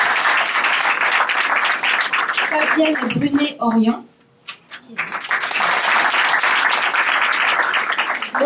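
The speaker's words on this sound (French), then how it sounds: "On peut l'applaudir aussi" Audience applause at a painting competition, dense clapping that briefly breaks while someone speaks over it, then swells again into full applause.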